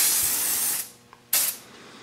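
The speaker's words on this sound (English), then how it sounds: "Let's spray a little mold release on here first." Two hissing bursts from an aerosol can of mold release, a longer spray then a brief pause and a shorter second spray, close up.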